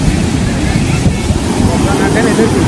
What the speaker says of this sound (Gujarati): દરિયાનું વાતાવરણ તમને બતાવી દઉં.